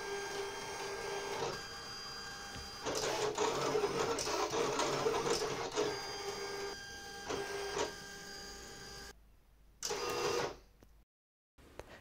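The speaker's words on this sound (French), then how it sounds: "j'envoie et la machine me découpe" A Silhouette electronic cutting machine slices paper, its steady motorized whir and carriage buzz running in bursts with short pauses, close and fairly loud, ending in brief stops and silence.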